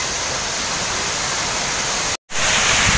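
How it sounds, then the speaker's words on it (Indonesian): A steady, loud rush of falling water from the Curug Cihideung waterfall in Sukabumi, Indonesia, roars continuously, broken by a brief dropout near the end. "Keindahan air terjun"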